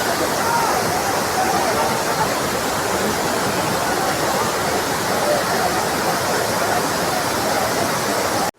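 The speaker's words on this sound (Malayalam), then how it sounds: "നല്ല വെള്ളച്ചാട്ടം" Thottikallu (TK) Falls near Bengaluru on a crowded Sunday, a loud, steady roar of falling water filling the whole clip evenly, close by, ending abruptly.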